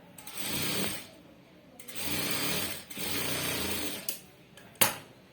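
A sewing machine stitches a blouse in three sustained runs of rapid mechanical whirring, close and steady, separated by brief pauses, followed by a few sharp clicks at the end.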